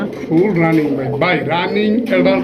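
Nearby pigeons give throaty, wavering coos, overlapping one another, while a voice cuts in and out over them.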